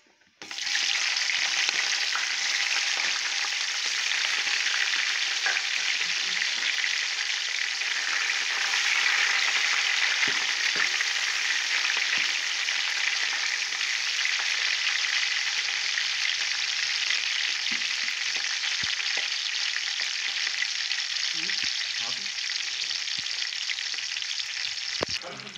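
Whole spices, bay leaf, cloves, cardamom, cinnamon and chillies frying in hot oil for a chicken curry, giving a loud, steady, continuous sizzle that holds for the whole stretch with no talking.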